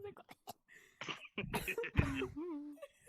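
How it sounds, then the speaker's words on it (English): Several short, harsh coughs burst out close to the microphone, scattered among a few quiet vocal sounds. "she's gonna cough like a toddler."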